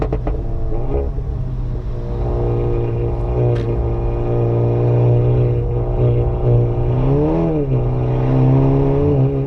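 A 455hp hybrid turbo Cupra Leon drives a wet Nürburgring lap in the rain. The engine drones steadily from inside the cabin, with its pitch rising and falling through gear changes, and nobody speaks.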